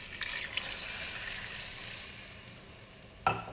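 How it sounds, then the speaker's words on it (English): Water poured into a pot of cabbage soup makes a steady hissing, splashing rush that gradually eases off, followed by a brief clatter near the end. "I'm going to add rather water now."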